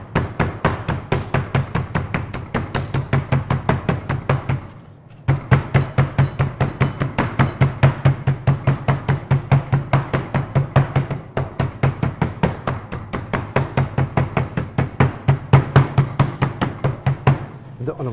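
A kitchen meat hammer pounds pieces of chicken stacked on top of each other in a fast, steady run of loud close blows, pausing briefly once, with people talking in the background.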